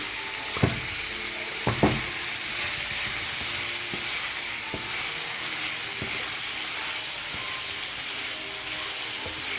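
Fish frying with onion in a pan sizzles in a steady, close hiss, broken by a few sharp clinks of stirring near the start.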